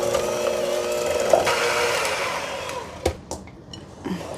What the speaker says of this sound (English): So now we're going to blend the ingredients together until they're well incorporated.